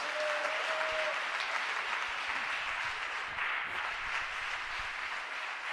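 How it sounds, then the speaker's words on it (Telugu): A church congregation claps loudly and steadily through a worship service, a dense, continuous wash of many hands that holds evenly from start to finish with no speech over it. "గట్టిగా చప్పట్లు కొడుతూ స్తోత్రం చెబుదాం"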